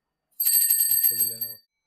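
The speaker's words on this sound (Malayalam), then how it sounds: "ഇതിപ്പോ ഏകദേശം റോളിംഗ് ബെൽ എന്ന് പറയും" A bright rolling bell on a vintage bicycle rings in a quick rapid trill for about a second, close and clear, with no other sounds around it.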